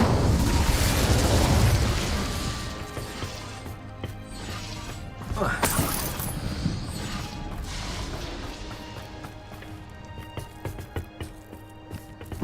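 Incendio fire spell cast in the PC game Hogwarts Legacy: a loud burst with crashing, explosive roar and crackle, flaring again midway and trailing off with scattered pops.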